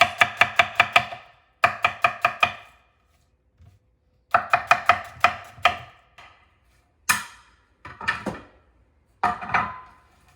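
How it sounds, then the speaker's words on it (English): A knife chopping vegetables into julienne sticks on a cutting board for cornbread stuffing. Rapid bursts of sharp, close taps, each burst five or six strokes, come in separate groups with short silences between them. "Just bring your knife down like that, and you're gonna get sticks."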